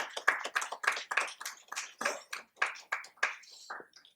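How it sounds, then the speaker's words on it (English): Conference audience applauding to welcome the chairperson and guest speakers, a steady run of fairly close hand claps in a regular rhythm lasting about four seconds, with no talk over it. "our respected guest speakers with a big round of applause"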